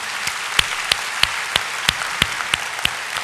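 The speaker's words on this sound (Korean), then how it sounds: "다시 한번 격려의 박수 부탁드리겠습니다." Congregation in a church Sunday service applauding in encouragement after a choir piece, a bright wash of clapping with regular, sharp louder claps landing in a steady rhythm.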